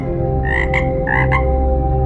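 A frog croaks loud and close in two short bursts of rasping calls, over a steady tonal background hum, with no voices.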